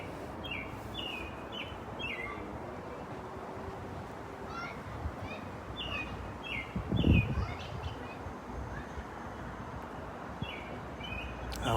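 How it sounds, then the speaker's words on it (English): Small bird singing outdoors, a run of short repeated chirping phrases moderately near over a steady rumbling background, with a brief louder thump partway through. "You're a bird singing right over there."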